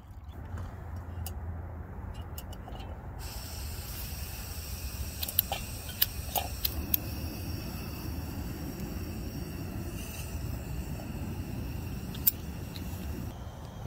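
Water heating to a boil on a backpacking stove for beans and franks outdoors at a lake, with a steady close roar and hiss of the burner that grows brighter partway through, plus a few faint clicks.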